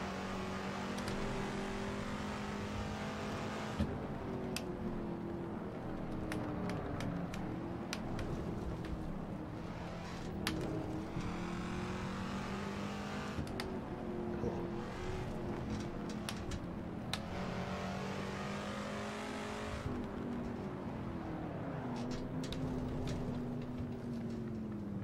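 A Chinook Mk2 Can-Am racecar engine in a racing video game roars steadily, its pitch climbing and dropping through repeated gear changes over a continuous, even stretch with no talk.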